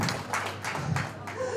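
An audience claps at a drag performance event, a brief burst of several separate claps with a soft thud, fairly faint and set back in the room.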